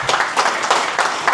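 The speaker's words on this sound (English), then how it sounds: "let's give him a big round of applause" An audience at a prompt engineering talk applauds a sponsor. Close, loud clapping pulses in a quick rhythm through the short burst, with no voices.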